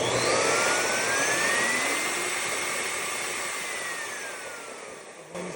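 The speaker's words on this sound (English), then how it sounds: "we're ready to test fire this new motor just to double check that everything's good" A new replacement motor in a Metrovac Master Blaster dryer on a test run, turned on through a variable speed control. It gives a loud, steady high-pitched whine and roar that rises and falls in pitch, then cuts off near the end.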